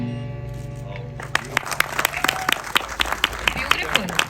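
A crowd at a mall promotional event claps in a loose, uneven rhythm with distinct sharp hand claps over a low background murmur and music.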